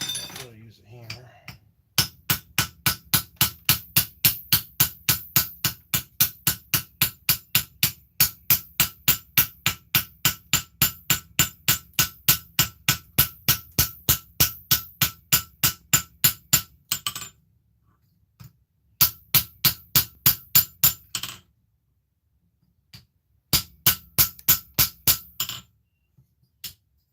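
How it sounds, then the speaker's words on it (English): Hammer knocking scale off metal in rapid, regular metallic strikes, loud and close, running in a long steady burst and then in shorter bursts separated by pauses. "Try and get most of that picked off. I'll really use a hammer."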